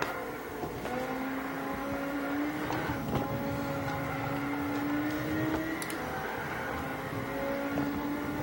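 A 900-horsepower race car engine drones steadily from the hood view of a racing video game, its pitch rising and falling gently as it holds a loud, continuous tone with no talking.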